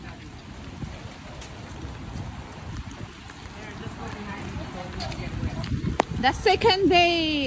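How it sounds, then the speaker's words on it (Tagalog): Rain falls steadily at Whistler, a soft continuous patter filling the background while a person talks over it, growing a bit louder near the end. "Second day, it's raining, man."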